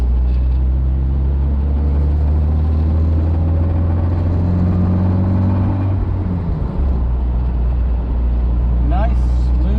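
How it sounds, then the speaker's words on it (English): A 1957 Mercedes-Benz 190 SL drives along with a steady, loud engine drone and road rumble from inside the car, the pitch shifting briefly midway as it changes speed. "Nice, smooth driving Mercedes 190 SL."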